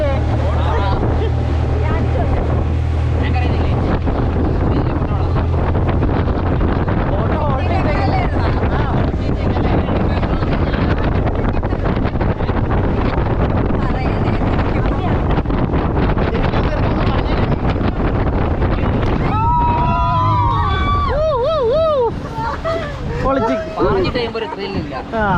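A boat cruising on fresh inland water, with a constant engine and hull drone mixed with gusty wind buffeting the microphone; voices come through faintly near the end.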